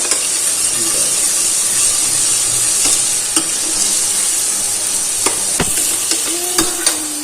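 Onions and tomatoes frying in a pan for yellow moong dal, a loud steady sizzle with repeated spoon clinks and scraping stirs against the pan.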